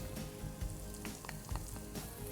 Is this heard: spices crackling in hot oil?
yes